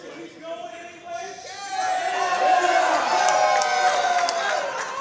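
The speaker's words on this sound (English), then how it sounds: "the crowd is still very active and a lot of noise" A wrestling crowd cheers during a women's match held in total darkness, a swelling roar of shouts and whoops that builds after a quieter start, with voices mixed in the noise.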